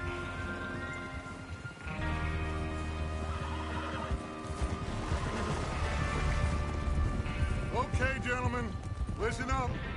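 Horses neigh and whinny in Red Dead Redemption 2 as riders gather to rob a train, with hooves clip-clopping and several whinnies near the end, all under steady game ambience and spoken dialogue.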